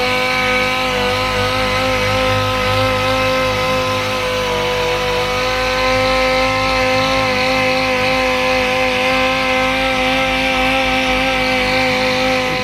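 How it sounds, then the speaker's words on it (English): A power sander works flat across car paint, one panel at a time, a steady loud droning whine that runs without a break the whole way through. "I'm sanding this flat"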